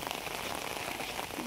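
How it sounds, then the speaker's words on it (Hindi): Heavy rain pours steadily in a hilly area, with dense, continuous hiss and patter on surfaces and no pauses. "बारिश बहुत तेज़ हो रही है।"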